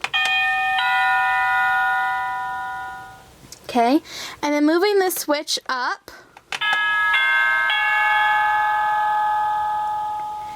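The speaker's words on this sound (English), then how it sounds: "And then we have our doorbell." Electronic doorbell chimes from a toy dollhouse ring out in a bright, sustained tone, then a voice speaks briefly before another set of chimes rings clearly again.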